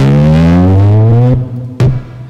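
A buzzy FL Studio 8 synth tone drifts slowly in pitch across a long, drawn-out slide, then cuts off before a short, sharp burst of a new note rings out briefly, with no talking.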